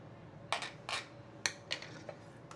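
Cooked rice being tossed and mixed with fried garlic oil in a bowl or pan for seafood fried rice: a handful of close, light clinks and scrapes of a utensil against the vessel in irregular bursts, with no talking.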